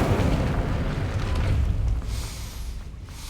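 A burst of the Incendio fire spell in Hogwarts Legacy, a loud roaring whoosh with a low rumble that fades over a few seconds, with no voices.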